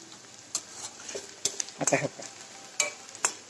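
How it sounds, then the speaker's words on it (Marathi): Onion frying in a kadhai for a ripe guava chutney, heard as a soft low sizzle with scattered scraping stirs and clinks, close by, while a person speaks briefly over it. "कांदा भाजत आलाय"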